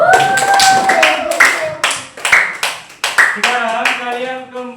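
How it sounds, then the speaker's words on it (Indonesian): Classroom students clap their hands in a few uneven bursts, mixed with children's voices and a sustained tone near the end. "Oke, tepuk tangan."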